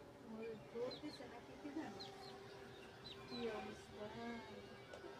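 Chickens cluck softly and intermittently at a distance over low background noise, with a few faint chirps mixed in.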